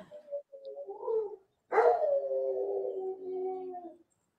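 A dog in a film scene howls and cries in long, wavering tones, a short whine followed by a loud drawn-out howl that sustains for a couple of seconds, fairly close with no talking.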